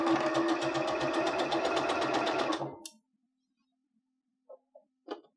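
Sewing machine stitching a leggings seam, a fast, even mechanical whir with rhythmic needle ticks running close and loud for under three seconds, then stopping, followed by silence and a few soft handling clicks.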